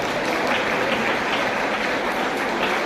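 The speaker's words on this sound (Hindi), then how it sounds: "सभी लोग जोरदार तालियां बजाकर इनका अभिनंदन करें" An audience at a school Veer Bal Diwas ceremony gives loud, sustained applause, a thick continuous roar of clapping with no break.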